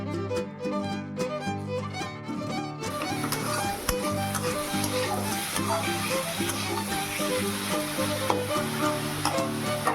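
Spices sizzle and crackle in hot oil in a home kitchen while tempering dal. The sizzle is loud and steady throughout, with a constant hiss and some stirring clatter. Tonal background music plays underneath.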